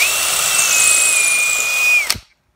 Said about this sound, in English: we're going to drill our first pilot hole